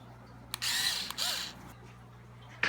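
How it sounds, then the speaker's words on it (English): A new cordless power drill whirs in two short bursts, the second briefer than the first, then spins down, with a final quick burst at the end, loud and close against a low background hum. "I'm loving this new drill."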